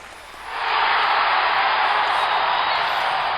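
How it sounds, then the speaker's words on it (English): A football crowd in the Dome roars after a touchdown, a broad wash of cheering that swells suddenly and holds loud and steady. "And the crowd at the Dome going wild"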